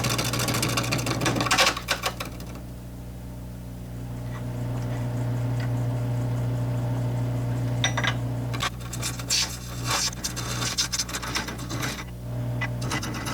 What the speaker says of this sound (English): However, the lathe is still bouncing.